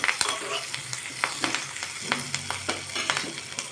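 Curry leaves, ginger and garlic fry in hot oil for a prawn curry, a close sizzle broken by rapid sharp crackles and pops that burst irregularly throughout.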